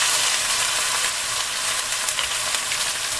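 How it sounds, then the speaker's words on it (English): Oxtails browning in a hot pot give a loud, steady sizzle and frying crackle that runs unbroken and close throughout, with no voices. "Now browning the meat, I like to brown the meat so that it gets nice rich"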